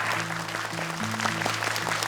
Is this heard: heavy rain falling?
no